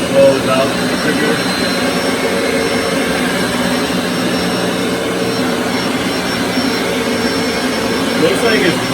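A Bissell ProHeat Essential carpet cleaner drawing up water and solution from carpet gives a steady, loud, unbroken suction roar with a high whine, running close and continuously throughout.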